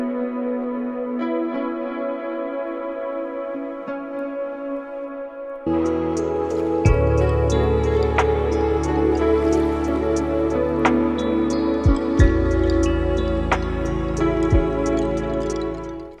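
Guitar run through the Soup 2 plugin plays soft, shimmering sustained tones, then swells into a fuller, louder wash with deep bass entering midway and scattered sparkling ticks throughout, no voices.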